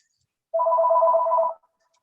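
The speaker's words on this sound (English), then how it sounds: "Don't answer the phone." A telephone rings once during a city storm water utility board meeting, a single clean electronic tone about a second long that starts and stops abruptly in an otherwise silent room.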